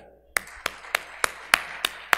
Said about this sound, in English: join me to give him a big and warm clapping